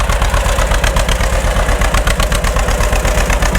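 The engine of a John Deere B tractor pulling a John Deere two-bottom plow runs close and loud, with a strong, rhythmic low-pitched chug and steady pulsing beats.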